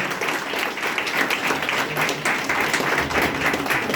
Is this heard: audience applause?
yes